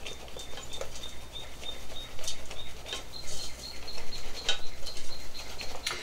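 A silicone whisk beats homemade chocolate syrup in a pot, making soft, quick rhythmic taps and swishes that come close and moderately loud, with a few sharper clinks against the pot.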